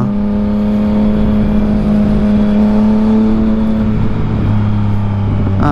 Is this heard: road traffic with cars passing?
yes